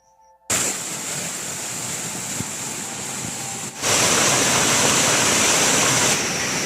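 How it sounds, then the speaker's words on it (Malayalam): The Areekal Kunnu waterfall in heavy rain makes a steady, dense roar of rushing water. It starts abruptly after a short silence and swells louder partway through. "അരീക്കൽ കുന്ന് വെള്ളച്ചാട്ടം അടിപൊളിയാണ്."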